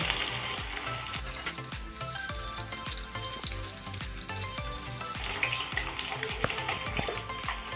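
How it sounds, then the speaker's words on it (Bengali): Eggs fry noisily in a wok, steady sizzling under repeated scraping and clinking of a spatula stirring them. "ডিমগুলোকে ভালো করে আমি ভেজে নেব।"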